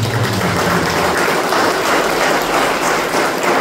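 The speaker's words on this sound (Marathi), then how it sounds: "आपण टाळ्या वाजवतो." A church congregation claps in applause during a service, a dense, steady wash of many hands heard close and loud with no gaps.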